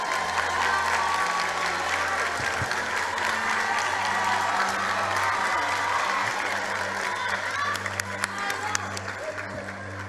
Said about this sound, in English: A round of applause for KwaZulu Natal.